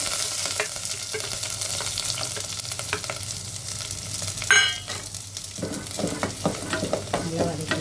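Shallots, garlic cloves, onion and curry leaves sautéing in hot oil for a lentil-dumpling curry, a continuous sizzle broken by a loud burst of spitting and repeated spatula stirring and scraping against the pan.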